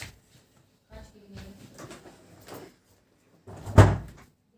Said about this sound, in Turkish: şimdi kapıyı kapatıp geldim.